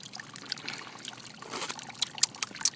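Wort for home-brewed beer trickles from a bucket during sparging, a faint, intermittent dribble of liquid with a few brighter splashy drips toward the end.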